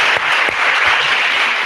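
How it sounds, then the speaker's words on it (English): An audience at a lecture applauds, dense and loud clapping throughout with a few sharper claps standing out. "So first of all, applause for Edu, because they're beautiful."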